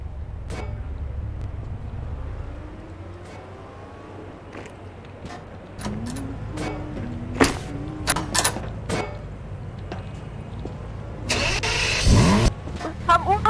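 A car engine is started outdoors at night with a few faint knocks and clicks before it, then the engine catches with a short loud burst near the end; the whole clip is fairly quiet with no clear talk.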